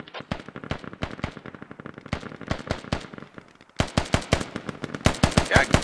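Rapid bursts of suppressing gunfire in the Squad video game crackle in dense, uneven volleys, heavier and louder in the last couple of seconds, with faint voices underneath.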